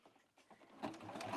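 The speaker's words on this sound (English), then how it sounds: "I'm just going to start sewing again." A sewing machine stitching self binding through several layers of fabric starts up partway through and runs at a steady, quiet pace to the end.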